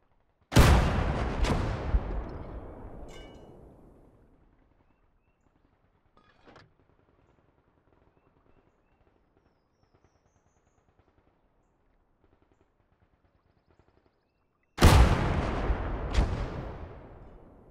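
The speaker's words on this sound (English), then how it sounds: "we wait 20 more seconds and the first gun will fire again" Artillery guns in the Gates of Hell game fire two heavy booming blasts in quick succession, each rolling out into a long decaying rumble. After a near-silent gap of about eight seconds, another loud pair of shots goes off.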